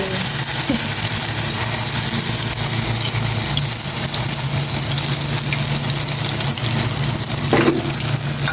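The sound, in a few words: eggplant frying in a pan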